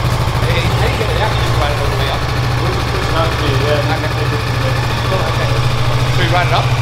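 A 2018 Kawasaki Vulcan motorcycle engine idles steadily close by, a continuous low throbbing rumble that holds an even level throughout.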